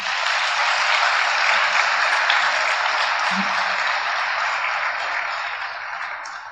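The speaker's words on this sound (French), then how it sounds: "merci pour vos applaudissements" Sustained applause from an audience at a New Year's wishes ceremony in Dourges, a dense, even wash of many hands clapping that holds steady and then slowly fades toward the end.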